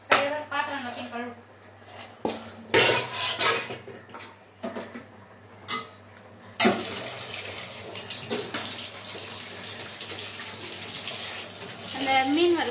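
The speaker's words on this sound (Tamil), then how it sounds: "பாத்திரம் எல்லாத்தையும் கழுவு." Dishes, pots and pans being washed under running tap water in a home kitchen, a steady broadband water rush running through most of the clip with intermittent clatter, while people talk in the background.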